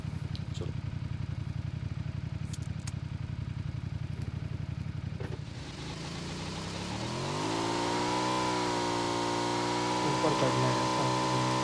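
Motorbike engine in PUBG, first a steady low drone, then revving up through rising harmonics to a loud sustained roar, with talk over parts of it.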